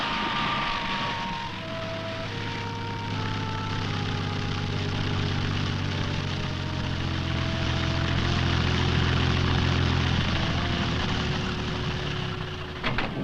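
A propeller plane drones steadily overhead on the Rupununi savanna, its engine hum rising slightly and holding loud before easing off at the end.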